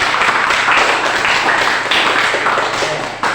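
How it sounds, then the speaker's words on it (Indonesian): A classroom group claps together for a team that has just finished presenting in a teacher-training session, a dense, even patter of hands lasting a few seconds that fades slightly near the end. "berikan tepuk tangan untuk kelompok 3"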